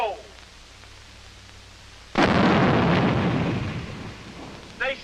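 A live hand grenade detonates at a military training range, a sudden loud blast that rolls and rumbles for about two seconds before fading, with quiet moments on either side.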